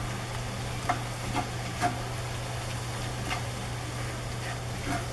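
Seasoned ground beef and onion frying in a pan for homemade chili, a steady low sizzle with several scattered spoon scrapes and taps as it is stirred.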